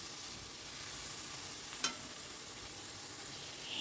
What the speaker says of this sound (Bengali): অনবরত কিন্তু নাড়তে হবে, গ্যাসের ফ্লেমটা এখন মিডিয়াম টু হাইতে রেখেছি